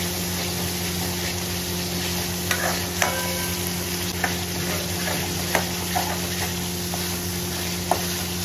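Turmeric being stirred into Kashmiri dum aloo masala in a pan, with a steady low sizzle and a constant hum, plus irregular clicks and scrapes of a spoon against the pan.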